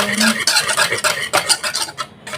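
Batter for homemade lumpia wrappers being stirred in a bowl, with rhythmic scraping and clinking strokes of a utensil, close and fairly loud.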